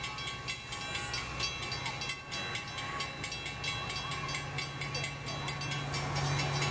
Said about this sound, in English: It should be coming because I hear it, so it's not a false alarm like it was last time.